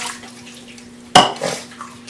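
A short splash of water pours into a stock pot with chicken parts, a brief rushing burst after a quiet start, tapering off within a second.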